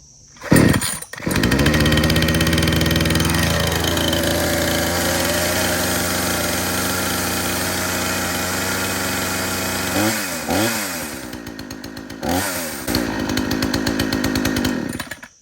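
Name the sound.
Craftsman S205 chainsaw engine starting and running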